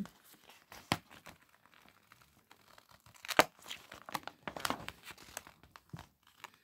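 Paper is peeled and crinkled in short, irregular rustles and sharp tears, close and fairly quiet, with no talking, while making mini postcards.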